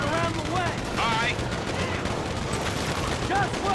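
Gunfire from a police roadblock shootout during the Paleto Score heist in the video game GTA 5, a dense continuous clatter under a busy mix with shouted talk over it.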